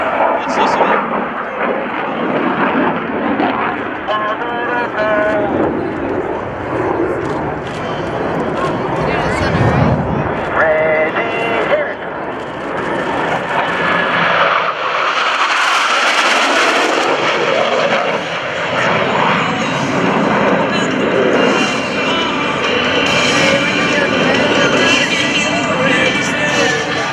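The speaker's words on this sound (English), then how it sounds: "all four pilots will simultaneously roll their aircraft 360 degrees" Four US Navy Blue Angels jets roar overhead during a Diamond aileron roll at a 2012 Joint Services Open House air show, loud and sustained with rising and fading engine noise, while an announcer talks over them.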